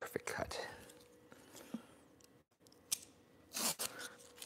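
Vinyl wrap being cut along the sides of a mini fridge during a custom wrap job, with short crisp snips and scratchy cutting strokes close by, interspersed with quiet speech.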